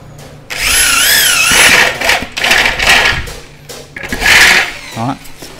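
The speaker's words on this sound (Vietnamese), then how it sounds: "Tầm này chúng ta khoan lỗ đây." A power drill cuts holes into an aluminium window frame in several close, loud whining bursts with warbling pitch, separated by brief pauses and handling clatter, with a short bit of speech near the end.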